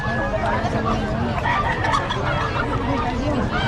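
Chickens and roosters offered for sale at a busy Bocaue market in the Philippines, clucking steadily under a loud crowd babble with people talking nearby.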